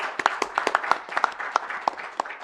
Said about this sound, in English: let's give a big round of applause to ma'am